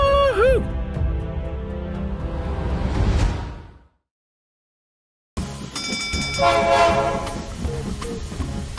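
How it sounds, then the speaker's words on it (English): A train rumbles close by with a blaring horn and rising whoosh, cut by a moment of silence, then more horn tones and rail noise. "Mr. Train is almost here."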